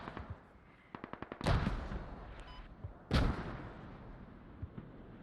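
Mortar fire in the Squad game mod on the Fools Road map: a quick string of small cracks, then two heavy booming impacts a couple of seconds apart that roll away into the distance, with no talking.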